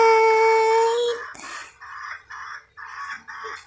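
A pet dog lets out a drawn-out, tonal howl that breaks into a series of short whimpering yelps, fairly close and alone.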